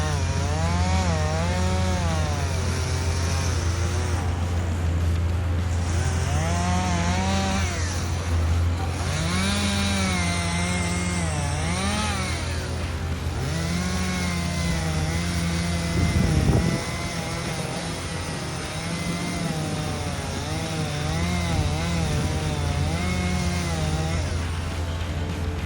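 Chainsaw cutting trees in a forest, its engine whining continuously and rising and falling in pitch as the revs change while it bites into the wood, loud and close throughout.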